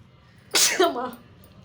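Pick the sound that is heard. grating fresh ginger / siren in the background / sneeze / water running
sneeze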